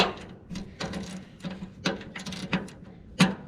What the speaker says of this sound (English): I'm going to go get the bit for my ratchet and get it on there close